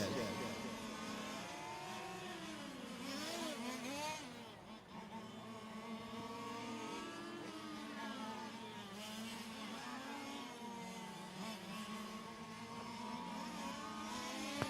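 Fifth-scale RC race cars at a world championship qualifying session on a track, with high engine whines repeatedly rising and falling as they pass, under continuous commentary.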